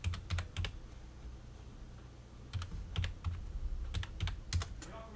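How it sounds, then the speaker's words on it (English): Keys tapped on a calculator while entering a density calculation, quick bursts of clicks in small clusters, fairly close and clear over a low background hum, with pauses between groups of presses. "So we type that out in our calculator."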